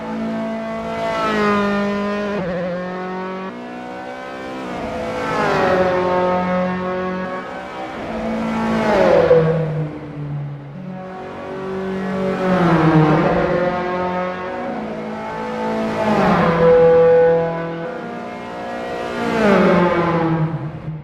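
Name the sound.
Dallara F312 race car engine revving, Assetto Corsa video game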